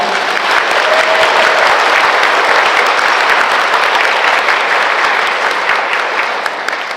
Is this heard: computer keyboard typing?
no